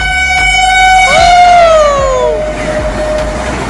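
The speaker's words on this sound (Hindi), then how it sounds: "भाई साहब क्या ही रफ्तार से गई है खजुराहो वंदे भारत एक्सप्रेस" The Khajuraho Vande Bharat Express passes at high speed, blaring a loud, sustained horn whose pitch slides downward as it goes by, over a steady rushing rumble of the train, with no voices.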